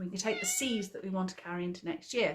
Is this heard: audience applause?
no